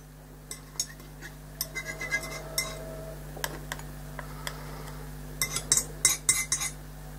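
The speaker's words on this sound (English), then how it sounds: "vary the way that you're hitting the paper with the palette knife" A palette knife tapping against paper, light dry clicks scattered at an irregular pace that bunch into quicker clusters toward the end, close but faint over a steady low hum.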